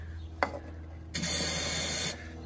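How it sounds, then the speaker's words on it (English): Fogging oil sprayed from an aerosol can into the engine cylinders of a rusted 1966 Mustang Fastback: a faint tap, then one steady close hiss lasting about a second before it cuts off. "I got a good can of fogging oil here. We're gonna spray down each cylinder."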